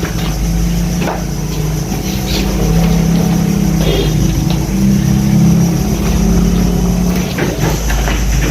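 Ship's backup engine at a ferry operator in Batulicin, Indonesia, running after mains power fails: a steady, loud low-pitched engine drone with a wavering hum, continuous throughout with no talk.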